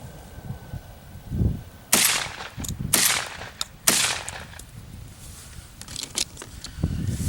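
Beretta A400 Xplor shotgun firing outdoors, a series of loud sharp blasts spaced unevenly over several seconds, each followed by a brief rumbling echo.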